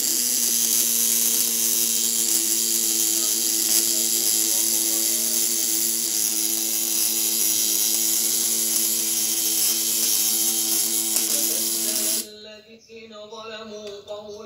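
A 1 kg platinum-coil electric fishing stun device rated 200–500 W and running on 12 volts buzzes under a load test in a steady, loud electric drone that holds for about twelve seconds and then cuts off abruptly.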